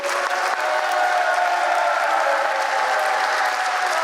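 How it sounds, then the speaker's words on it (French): An outdoor crowd at a pilgrim walk gives sustained, even applause, a dense wash of clapping that holds steady for about four seconds. "on peut faire un magnifique applaudissement pour eux et leur dire un grand merci"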